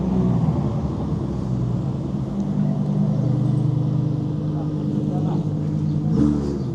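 A loud car engine revs and roars steadily throughout, a deep continuous drone close by with a brief surge near the end.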